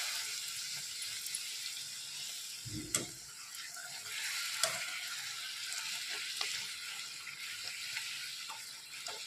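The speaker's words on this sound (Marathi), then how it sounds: "आता पुऱ्या तळून घेऊ पटापट" Puris fry in hot oil in a home kitchen, giving a continuous bright sizzle with a couple of louder splashes and clinks as the dough is dropped in and turned.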